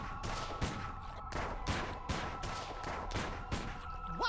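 Rapid gunfire in the Sam & Max game, a series of about eight sharp shots at a fairly regular pace over a ringing tone, close and punchy, with no talking.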